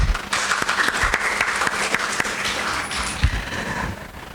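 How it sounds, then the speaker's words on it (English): Audience applause at a book launch and panel discussion, a dense, steady patter of many hands clapping for the panelists that carries on for several seconds before thinning slightly toward the end. "Another huge round of applause for them,"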